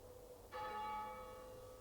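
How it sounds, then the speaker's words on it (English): A church bell strikes once, clear and ringing, then its tone hangs and slowly fades under a faint background hum. "It's the bell."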